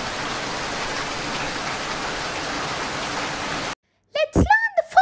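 Steady hiss of falling rain fills the first few seconds, then cuts off abruptly before a voice briefly speaks.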